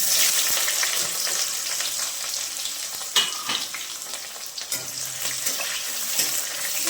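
Chopped onion frying in hot oil with bay leaves, dried red chillies and five-spice seeds, a steady bright sizzle close up with a few stirring scrapes and clinks, no voices.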